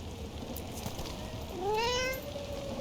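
A cat in the video game Dragon Age: The Veilguard gives a single rising meow midway, clear over a soft, steady background of game ambience.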